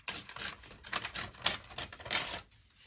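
A paper trimmer slicing scrapbook paper gives a series of quick, close scraping and clicking strokes, several short bursts in an uneven rhythm before falling quiet, with no talk.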